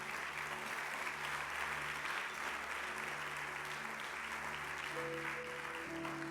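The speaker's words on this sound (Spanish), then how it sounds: "Dale fuerte ese aplauso." A church congregation applauding during a service: sustained, even clapping from a large crowd over a soft held musical tone, with no clear speech.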